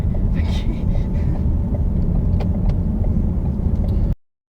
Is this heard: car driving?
yes